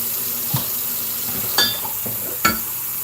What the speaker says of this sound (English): I do apologize if this water noise is irritating